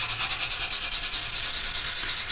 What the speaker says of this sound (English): And then come along with quite a coarse sanding sponge